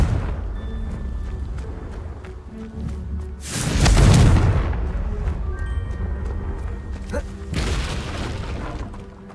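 A Confringo fire spell from the game Hogwarts Legacy bursts in a loud, deep boom around the middle, rumbling on with a second smaller blast near the end, over game ambience and music.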